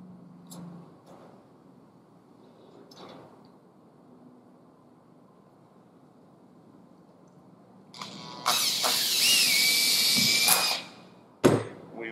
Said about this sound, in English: We drilled to the PVC with the smallest drill bit in the package